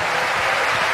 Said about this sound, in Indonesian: sekali lagi beri sorak-sorai paling meriah bagi Tuhan kita